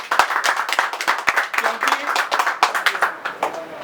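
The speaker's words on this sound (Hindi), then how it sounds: "मैं चाहता हूं कि जोरदार तालियों से स्वागत हो" Audience at a political event gives a welcoming round of applause, steady overlapping hand claps close and lively throughout, with a brief spoken word over them.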